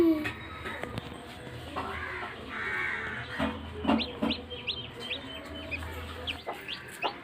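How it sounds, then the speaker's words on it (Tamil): Faint, high peeping chirps from a newly hatched chick repeat in quick bursts, with occasional low clucks from the broody hen nearby and quiet talking. "ஒரு அழகாக ஒரு குச்சி கோழி பொறிச்சு வெளியே வந்திருக்கு அழகா சவுண்டு விடுது"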